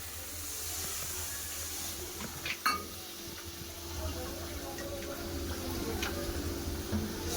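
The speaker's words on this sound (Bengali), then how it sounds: "মশলা কষা গেছে এবার জল দিয়ে দেবো" Water poured into a pan of sizzling fried spice masala for a rohu fish posto curry gives a steady hissing sizzle, with a short clatter and splash partway through.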